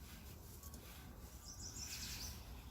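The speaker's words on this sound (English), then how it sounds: "Listen to the traffic and the bird song." Birds chirping and singing outdoors, fairly faint, over a steady low rumble of distant traffic.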